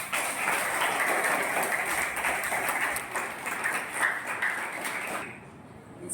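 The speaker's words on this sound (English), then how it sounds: "Let's give ma'am a round of applause." An audience at a school Ramzan celebration applauds a correspondent with a sustained burst of clapping that fills the hall, then fades and stops just before the end.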